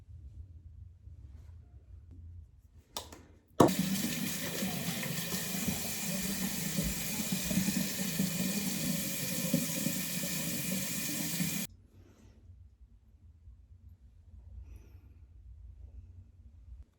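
Tap water runs at a bathroom sink, switching on abruptly with a clunk and flowing as a steady close splashing hiss for about eight seconds before cutting off, with quiet room noise before and after.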